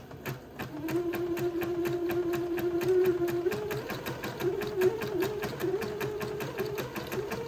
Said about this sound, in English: I'm going to start at one end and zigzag what I just zigzagged before a second time.